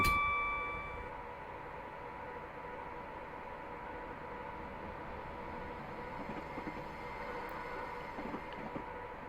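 Class 89 electric locomotive braking on the Carlisle to Glasgow Central line in Train Simulator Classic, a steady close rumble and hiss with a faint chime at the start, holding level with no voices.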